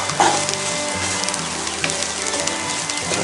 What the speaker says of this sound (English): Just give it a quick stir. Some of those onions are already starting to become translucent.